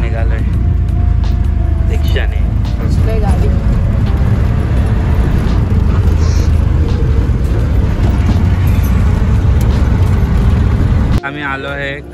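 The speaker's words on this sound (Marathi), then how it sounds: "राजापूरहून निघालोय रिक्षाने." An auto rickshaw ride from Rajapur in the Konkan region carries a loud, constant engine drone and road rumble close by, with voices over it, before the noise cuts off near the end.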